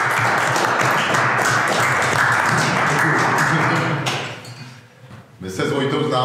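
Audience applause welcoming a former professional track cyclist to a talk, a dense, steady wash of clapping that thins and nearly dies out before a brief burst returns at the end.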